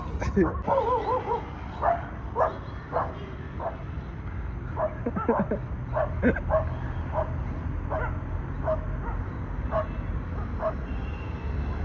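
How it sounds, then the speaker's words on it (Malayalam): Several dogs bark and yip in short bursts, moderately close, with people talking over them throughout. "പട്ടികളൊക്കെ അന്തം പിടിക്കുന്നു."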